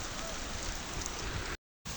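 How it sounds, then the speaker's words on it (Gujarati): Heavy rain pouring steadily in windy monsoon weather, a dense unbroken hiss close by, cut by a brief gap of silence near the end. "ખૂબ જ ઝડપથી વરસાદ પડે છે."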